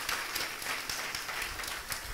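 A church congregation claps together at an anniversary celebration service, a dense, fairly loud patter of many hands with a few stronger bursts, continuing steadily.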